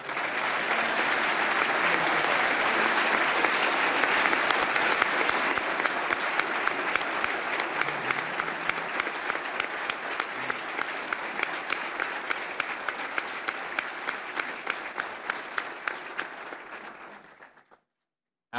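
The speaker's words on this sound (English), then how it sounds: "please join me in giving these individuals a big round of applause" Long, sustained applause from a large audience at the Florida governor's State of the State address, a dense roar of clapping that gradually thins into fewer distinct claps before stopping abruptly.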